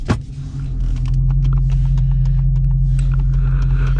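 A 2019 Dodge Challenger R/T's engine rumbles steadily while driving, a loud, deep, close drone after a brief thump at the start, with no talking.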